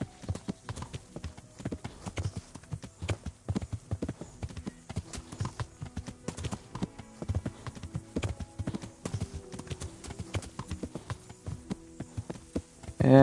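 Steady clip-clop of horse hooves at a gallop in the video game Kingdom Come: Deliverance, a continuous rhythmic pounding with a faint low hum behind it.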